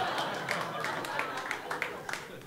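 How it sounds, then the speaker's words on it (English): Comedy club audience in Vermont applauding a stand-up comedian: a moderate patter of scattered claps with sharper individual hand hits, fairly even throughout, with a voice faintly present. "Thank you for clapping."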